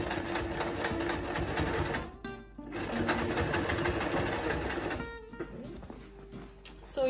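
A sewing machine stitches fabric ends together for a mop hat, its rapid mechanical whirr running steadily with two brief pauses before trailing off into lighter intermittent stitching.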